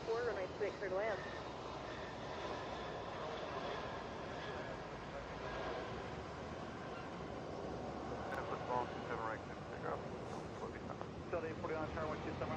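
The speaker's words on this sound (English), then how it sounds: "Seven 737 coming in from Cedar Rapids here." A Boeing 737 airliner on approach to land at Atlanta gives off a steady, broad jet roar, with radio voices talking over it throughout.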